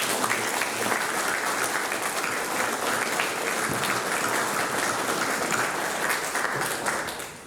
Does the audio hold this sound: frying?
no